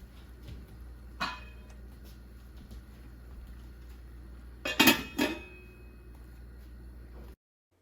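A metal lid set onto a cooking pot of squash and onions gives a couple of sharp clanks and rings close by, over a low steady background hum.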